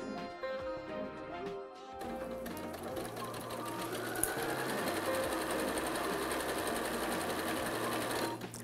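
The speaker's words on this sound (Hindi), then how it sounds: "अब हम इसको अपनी मशीन के पास लेके आएंगे।" Sewing machine stitching pinned fabric for a rail fence quilt block, a steady close mechanical whir with rhythmic needle chatter that starts after a brief pause and runs continuously to the end.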